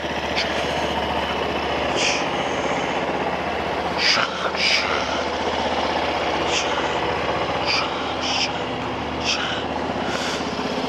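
A 2021 Honda Vision 110 scooter engine idles with a steady, loud hum, broken by a few short clicks and rattles nearby.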